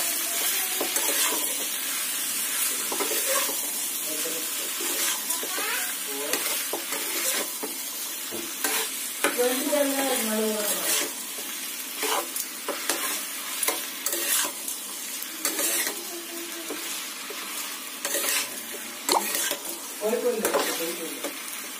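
Vegetables with masala frying in a pan, a constant sizzle broken by repeated scraping stirs and clinks of the spoon against the metal, with a voice talking briefly now and then.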